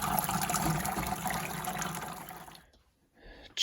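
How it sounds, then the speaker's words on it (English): Running water rinses heavy maple syrup off a filter during the last boil, a steady loud wash of splashing flow that cuts off abruptly near the end, leaving brief quiet before a new burst. "So I'm gonna just continue to rinse this off"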